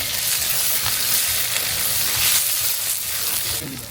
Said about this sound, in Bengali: আমরা একটু তেল দিয়ে দেবো, তেল কম হয়েছে।